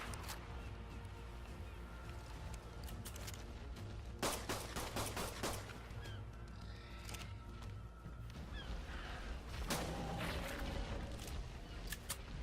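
Gunfire in the video game ARK, several sharp shots cracking out in bursts over a busy, noisy game background, with a voice talking faintly in places.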